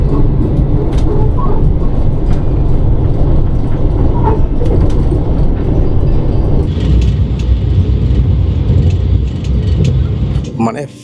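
Vande Bharat Express, Gaya–Howrah service, running at high speed around 127–128 km/h, heard from inside the executive coach as a steady, loud rumble and rush of wheels and air throughout, easing slightly at the end, with some talk underneath.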